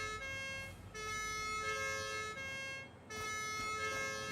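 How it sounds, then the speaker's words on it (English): A siren on a cart in the video game Satisfactory wails with a steady, looping electronic tone at moderate loudness, briefly dipping and returning. "Is that your siren thing on your cart, JB?"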